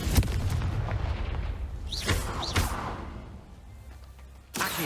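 Confringo fire spell blasts in the Hogwarts Legacy video game, with deep booming explosions and whooshing bursts, then a fresh burst at the end.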